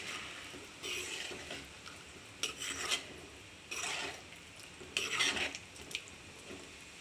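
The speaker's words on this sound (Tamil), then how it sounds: "இதை லைட்டாக அப்படி மெல்ல கிண்டி கொடுங்க." Brinjal kuzhambu being stirred gently in a pan, giving soft intermittent scraping and rubbing strokes in short bursts, close and fairly quiet.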